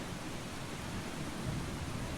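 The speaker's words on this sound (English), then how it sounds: "Oh, it's storming." Steady rain and a low rolling rumble of thunder from a thunderstorm in the video game Eastshade, a continuous dense wash with no voices.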